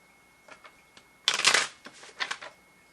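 Tarot cards are shuffled up close: a few soft taps and slides, then a loud riffling burst and several quieter follow-up riffles, with no talking.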